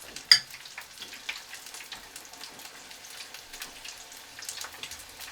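Bacon-wrapped onion rings deep fry in oil in a pan with a soft, steady sizzle and faint crackling pops. The sound is quiet and close, with no talk.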